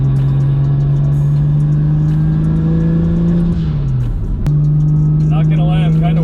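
A tuned single-turbo BMW 335i with the N54 engine, running 20 psi on 91 octane, drones loudly and steadily as it pulls hard, its pitch climbing, then dips briefly at a shift before pulling again, with people talking over it.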